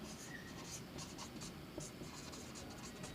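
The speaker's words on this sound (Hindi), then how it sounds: "यहाँ पे लिखते हैं" Pen or chalk writing during a math lecture on ratio and proportion, a quiet run of short scratchy strokes at an uneven pace, faint and close, with no talk.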